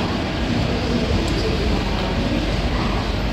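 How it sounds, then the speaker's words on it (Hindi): Rumbling train noise from the Konkan Kanya Superfast Express, the Goa to Mumbai overnight service, on the station platform. A steady, loud, broadband roar holds for the whole stretch with no talk. "ये है Konkan Kanya super fast express."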